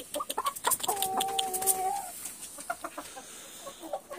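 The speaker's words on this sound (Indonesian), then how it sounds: "Ini ayamnya" Chickens cluck repeatedly around a backyard coop, close and clear, with one longer drawn-out rooster-like call in the middle amid the scattered clucks.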